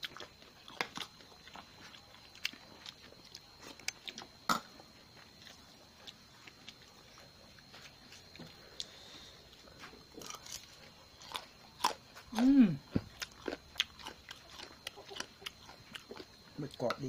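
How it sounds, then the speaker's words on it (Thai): Crispy squid eaten with spicy Thai papaya salad, close crunchy bites and wet chewing in short irregular bursts, with quiet talking in between. "หมึกกรอบดีนะมันเป็นหมึก"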